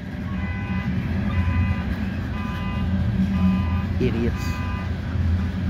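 A loaded CSX coal train with hoppers rolls past with its distributed power unit locomotive, a constant low rumble from the wheels under repeated horn toots and warning beeps, while a person speaks briefly close by.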